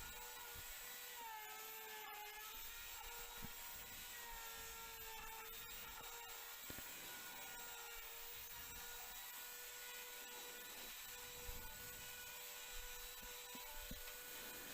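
A router bit cutting across wooden planks to flatten them, a faint steady high-pitched whine with rough rasping texture that shifts slightly as the cut moves.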